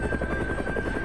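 A helicopter flies with a steady, rapid rotor thrum and a constant high engine whine, loud and continuous with no break over the short stretch.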